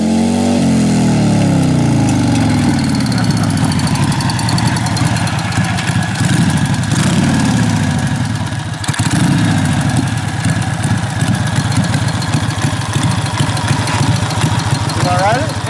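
A 1939 Indian Hillclimber motorcycle engine runs close and loud for the whole stretch, idling with a steady rough pulse and brief blips of revving. Voices talk faintly over the engine.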